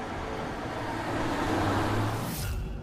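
A car pulls away and drives off, a short broadband engine and road rush that swells and then fades, with no voices.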